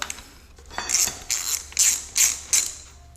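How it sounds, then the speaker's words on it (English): A 22 mm socket on a ratchet loosens the front axle bolt of a Yamaha XS 360/400 motorcycle, making a series of five or six close, bright ratcheting bursts with short pauses between strokes. "take a 22 millimeter socket, loosen up the axle bolt on the bottom"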